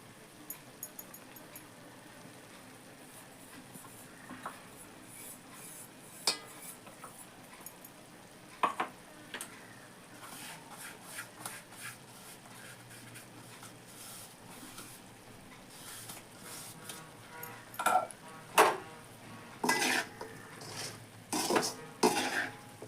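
A spoon stirs ground masala into wild boar curry in a village-style pot, making scattered metallic clanks and scrapes against the vessel. The strokes come irregularly and grow louder and more frequent toward the end.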